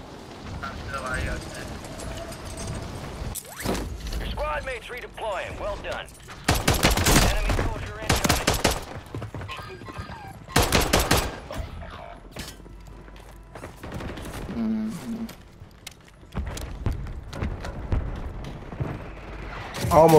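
Gunfire in the video game Call of Duty, with repeated loud bursts of shots, pistol among them, and crunchy impacts over a busy game mix, while a voice talks in between the firing.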